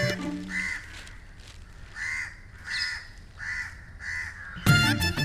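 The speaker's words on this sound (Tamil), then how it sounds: "காக்கா கத்துது" Several harsh crow caws repeat in an uneven series at moderate distance, standing mostly alone over quiet background ambience, followed by a brief louder clatter near the end.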